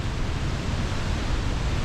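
Reekie Linn waterfall in Scotland pours with a steady, dense roar that fills the whole clip, a loud continuous rush of falling water with no pauses and no voices.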